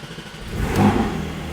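A Porsche 718 Spyder with a manual gearbox fires up from a cold start, giving a brief loud engine catch and rev that swells up close and then eases toward a steady idle.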